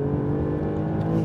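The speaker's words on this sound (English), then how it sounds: "put it in dynamic mode, you open up the pipes and listen to it, lovely rasp on the upshifts and on the downshifts" Alfa Romeo Giulia Quadrifoglio in dynamic mode with the exhaust pipes open, accelerating with a loud, raspy harmonic engine note that climbs briefly, close and alone.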